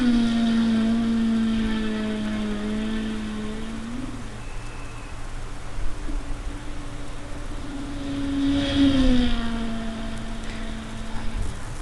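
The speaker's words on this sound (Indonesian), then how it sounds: "Ini adalah video sebuah mobil balap yang melaju sangat kencang" Racing cars speeding on a track, a steady engine drone with whining tones that rise and fall as cars pass, one louder swell near the end, with no talk over it.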